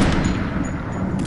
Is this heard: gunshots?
yes